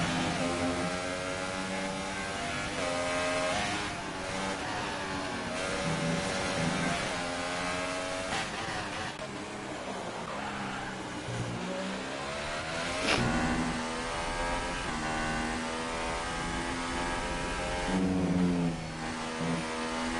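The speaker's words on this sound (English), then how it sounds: "enjoy the engine sounds on board with 20 Boys Junior, enjoying the Mercedes engine" Onboard Mercedes Formula 1 engine in F1 2018 at the German track, a loud, high-pitched whine that climbs through the revs and drops on each gear change and braking, repeating across the lap with no talk.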